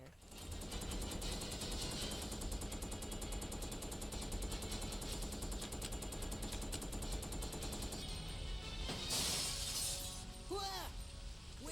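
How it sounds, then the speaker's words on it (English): Video game gunfire in a zombie survival game: rapid bursts rattle continuously with sharp mechanical clatter, followed by a few scattered crashes and swooping effects near the end. "we get attacked from above by gunfire"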